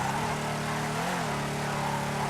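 Sports car engine from GTA 5's Cunning Stunts update, a loud, steady drone that dips briefly and then holds its pitch.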